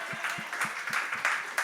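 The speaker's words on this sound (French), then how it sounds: "je veux qu'on donne une bonne main d'applaudissements tout le monde à Jess Shea puis à Faf" An audience of a French-language podcast gives a short burst of applause for two guests, rhythmic claps in a room blending into a steady wash of clapping.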